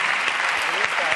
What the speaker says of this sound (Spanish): que vengan aquí un aplauso para las tres grecas